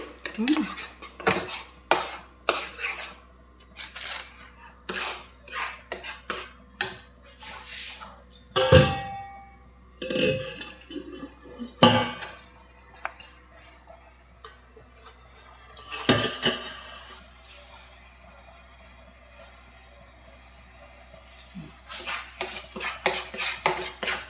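Mango pulp drying in a kadai is stirred with a metal utensil, giving repeated scraping clanks and clinks against the pan, irregular and close, with faint sizzling between strokes and no talk.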